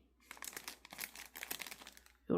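A plastic wrapper folded by hand, crinkling in close, crisp bursts of rustling that rise and fall for about two seconds, followed by a brief duller thump at the end.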